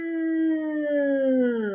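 Voice imitating an aeroplane with a steady humming 'nnn' tone that glides slowly downward in pitch, close, clear and sustained for just under two seconds.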